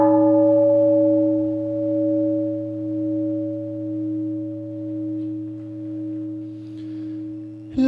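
A large Buddhist temple bell at a Vu Lan festival ceremony: one deep, resonant stroke that hums and pulses slowly as it fades over several seconds, loud and alone, with a faint new strike at the very end.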